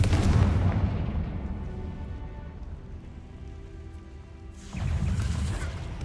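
Confringo blasting spell in a video game, a heavy rumbling blast that decays over several seconds before a second burst of roar near the end, loud and without talk.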